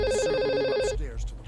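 A phone rings in the Payday heist game: a steady, repeating electronic ring tone, loud and close, that cuts off after about a second, leaving a short stretch of quieter game ambience.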